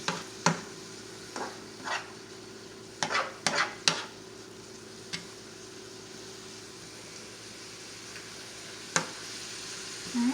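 Spinach and kale sizzle in a pan under a steady frying hiss and a low hum, while a utensil scrapes and knocks against the pan in irregular bursts, close by and with no voices.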